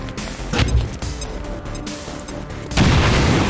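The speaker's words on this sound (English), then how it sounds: "so let's just apply another grenade to this situation, I think" A grenade in XCOM 2, a video game, goes off with a heavy crash as rock cover breaks apart, following earlier thuds and clatter; the final blast is loud, close and bursts with debris.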